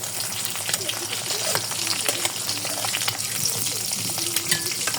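An egg fries in oil over low heat, giving a steady close sizzle with scattered crackles and pops throughout, and no voices.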